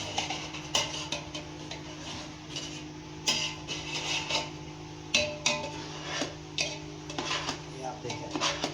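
Cooked mava rice gets mixed with dry fruit in a pot: a near, irregular run of spoon scrapes and clinks against metal, with quiet talking underneath.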